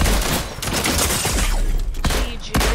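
Loud, rapid Fortnite gunfire fills the whole stretch, with sharp bursts standing out near the end.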